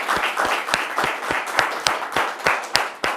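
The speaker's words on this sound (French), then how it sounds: "je vais vous demander une énième fois de vous applaudir vous-même" A television studio audience claps for itself on set, a steady burst of hand claps with a few sharper individual claps standing out, close and fairly loud throughout.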